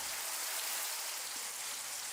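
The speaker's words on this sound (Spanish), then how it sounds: "No para de llover" Steady, dense rain pours down beside a river, a continuous close hiss of drops with no breaks or voices.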